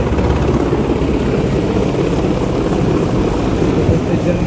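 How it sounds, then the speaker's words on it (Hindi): A Mi-17 helicopter approaches during an NSG commando operation. Its loud, steady, low rotor and engine rumble fills the whole stretch, mixed with wind buffeting and no clear voices. "ध्यान दें हमारे ओर आते हुए MI-17 हेलीकॉप्टर की तरफ।"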